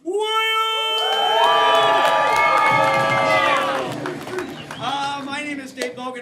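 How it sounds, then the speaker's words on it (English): Live audience at an evening advice comedy show cheering and whooping loudly, many voices shouting together in a sustained roar that peaks and then trails off into scattered calls and shouts. "and the crowd goes wild!"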